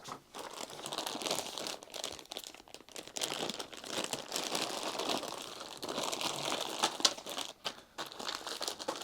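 Wooden pieces for the Charioteer board game being unwrapped, with steady crinkling and tearing of packaging that rises and falls in close, continuous bursts for several seconds, plus a few sharper crackles near the end.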